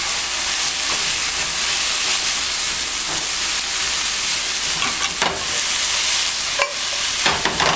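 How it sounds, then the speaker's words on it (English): Vegetables and tilapia sear loudly in a large pan for a stir fry, a dense, constant hissing sizzle up close, punctuated by occasional clacks and scrapes of a utensil moving the food. "you just want to sort of pan sear the vegetables"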